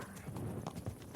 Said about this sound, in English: Actually, I better get my horse.